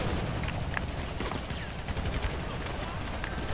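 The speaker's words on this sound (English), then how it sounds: "Oh no, they're shooting at you, Alex." Gunfire from the crime game Grand Theft Auto V crackles steadily, with scattered sharp shots and bursts over a dense, noisy background of game sound throughout.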